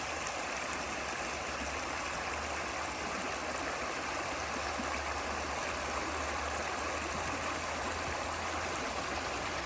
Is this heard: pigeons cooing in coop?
no